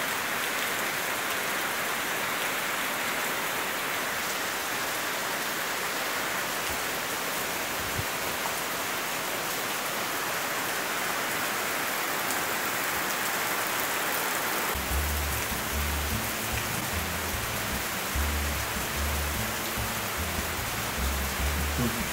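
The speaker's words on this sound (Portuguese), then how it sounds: "a gente fica tão feliz quando chove que eu não consigo deixar de filmar" Heavy rain falls steadily in the countryside, a dense continuous hiss of drops on surfaces, with a low irregular rumble joining in the latter part.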